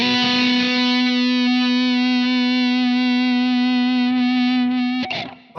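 A single sustained electric guitar lead note rings out through a Mooer GE200 Petrucci cab simulation, a rich, harmonic-laden tone that holds steadily for about five seconds before a short scrape.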